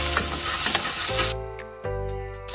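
A pounded paste of ginger, cumin, cardamom, cinnamon and green chili fries in a pan, a close crackling sizzle with a few stirring scrapes, brief and alone.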